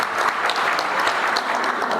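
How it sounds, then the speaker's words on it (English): Audience clapping for the Nuer community at a South Sudanese gathering in Nakuru, a dense, steady wash of many hands close by with no voices over it. "Clap for them"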